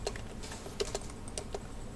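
Quiet computer keyboard and mouse clicks while working in AutoCAD, a handful of sharp isolated taps spaced irregularly across a couple of seconds, close and soft with no speech.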